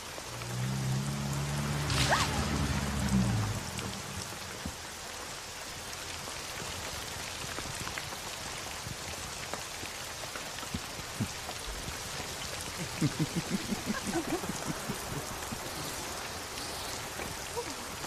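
Steady rain patters and drips on surfaces close by throughout, with a faint low voice early on and a few louder drops near the end.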